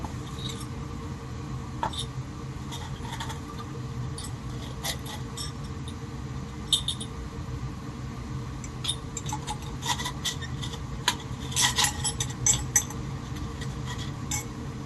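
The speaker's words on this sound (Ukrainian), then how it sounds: "Далі суміші наші перемішуємо і ставимо у льодяні бані." Glassware chinks and clinks as test tube mixtures are stirred and set into ice baths in a school chemistry lab, light scattered taps over a steady background hum, growing busier toward the end.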